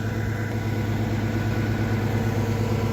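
An 886 tractor engine idles close by in a steady, even low rumble with a regular throb, holding constant with no revving.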